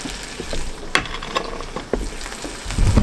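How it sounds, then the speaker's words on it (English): White perch fillets sizzle and crackle in a hot pan at an ice-fishing camp on Lake Winnipesaukee, heard up close with a steady fry and a few sharp pops. "That sizzle."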